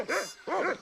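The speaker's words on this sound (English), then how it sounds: "Nice doggy." A cartoon dog in the adventure game Monkey Island 2 gives two short, high, wavering whimpers in quick succession, close and clear with no talking.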